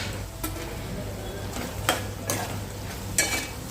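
Chicken curry with tomatoes frying in a pan, a steady close sizzle broken by four or five scraping stir strokes at uneven intervals, with no voices.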